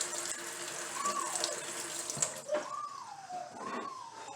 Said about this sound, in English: So I have here 2/3 cup of water, and just pour it in there.